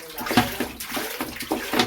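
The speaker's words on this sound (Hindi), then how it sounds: "अब कुकर में हम 4 गिलास पानी ऐड करेंगे" Four glasses of water poured into a pressure cooker while making masoor dal pulao: a steady close splashing pour with small surges as each glass empties, no voices.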